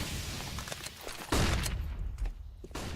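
Gunfire crackles in a Counter-Strike: Global Offensive match, a quick cluster of shots and a heavier blast amid busy game noise.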